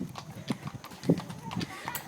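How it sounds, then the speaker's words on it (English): A horse's hooves clip-clop at an uneven walking pace on a hard surface, the knocks close and moderately loud, with people talking faintly in the background. "And you got a beautiful horse."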